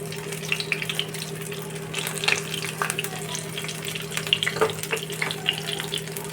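Four fish frying in hot oil in a pan, a steady, fairly faint crackling sizzle dotted with small pops, over a low constant hum.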